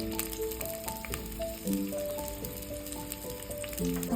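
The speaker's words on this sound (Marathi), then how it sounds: "आपण आता कांदा परतून घेऊयात" Onion frying in two spoons of oil in a pan, a constant sizzle with crackling pops, under a busy layer of clinking tones and kitchen clatter.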